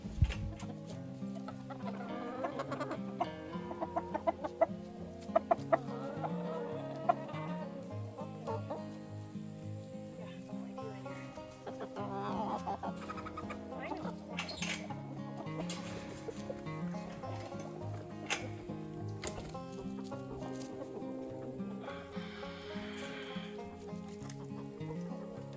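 Barred Rock chickens clucking and murmuring in a flock, a soft, busy mix of overlapping clucks and short calls at moderate distance, continuing steadily throughout.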